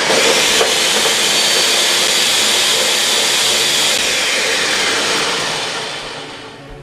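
A blender runs full of greens, cocoa and water for a chocolate kale smoothie, making a loud, steady, close whirring roar that eases off near the end.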